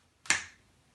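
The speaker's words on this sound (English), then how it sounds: "Snap my fingers." A single crisp finger snap, sharp and close, standing alone in an otherwise quiet room.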